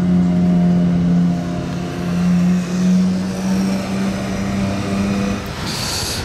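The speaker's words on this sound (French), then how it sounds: "Le retour encore, une autre voiture qui repasse." A car drives past loudly with a steady, droning engine note that holds for several seconds before easing off, heard alone without talk.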